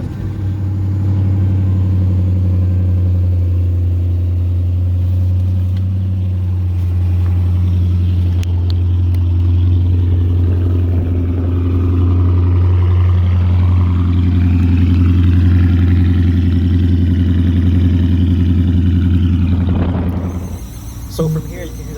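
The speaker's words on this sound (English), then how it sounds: "you can hear the little whining noise in the distance" A used car's front-mounted engine runs steadily with a deep, constant drone, and a faint, thin whine sits in the distance beneath it throughout.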